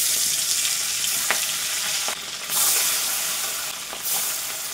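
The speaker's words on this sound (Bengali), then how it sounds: "তেলটা গরম হয়ে গেছে," Small mourala fish frying in hot oil, a loud, dense, continuous sizzle close by, with a few brief knocks and shifts in intensity as pieces are turned.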